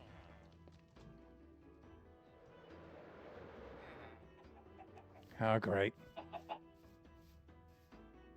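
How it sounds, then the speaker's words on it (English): A chicken clucks in a survival video game, a short burst of loud clucks standing out over a busy game soundscape, with someone speaking briefly. "A chicken has joined the club."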